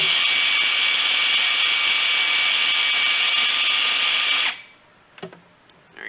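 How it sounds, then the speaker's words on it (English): Power drill whines steadily and loudly for several seconds while raising the rear window arms on a 1973-91 K5 Blazer, then cuts off abruptly, followed by a couple of faint clunks. "Now I'll just bring up the arms using my drill"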